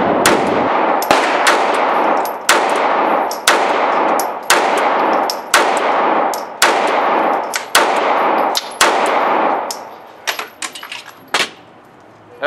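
Rapid string of sharp, loud pistol shots from an EMP handgun emptying a full magazine, roughly a dozen cracks at a steady quick rhythm with ringing tails, then a few small metallic clicks and handling noises as it runs dry.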